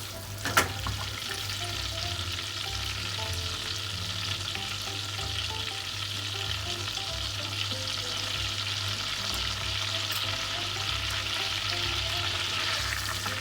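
Whole green and black cardamoms, cloves and cumin seeds fry in hot oil in a pan for dal makhani, a continuous close sizzle with occasional light pops and stirring, no voices.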